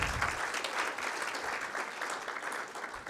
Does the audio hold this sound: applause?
yes